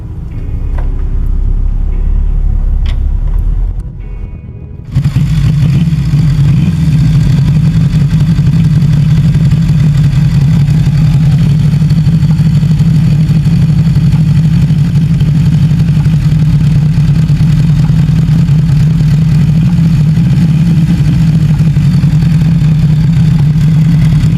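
A Matchless Silverhawk, a short-lived British luxury motorcycle, runs with a steady, loud low engine drone that holds continuously for about twenty seconds after a brief quieter start.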